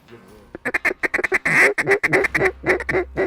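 Rapid bursts of pintail duck calls, quacking in quick irregular clusters during a duck hunt, with a voice speaking underneath.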